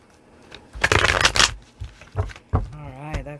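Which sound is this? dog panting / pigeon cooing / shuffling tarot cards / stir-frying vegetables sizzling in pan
shuffling tarot cards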